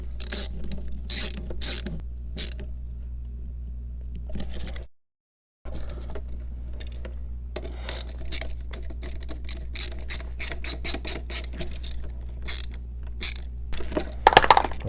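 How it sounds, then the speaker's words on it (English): Screwdriver tightening a terminal screw on an electrical outlet, a run of small clicking, ratcheting turns that start and stop in short bursts over a steady low hum, with a brief silent gap partway through. "So you hook that under the screw, and we'll tighten that down really good."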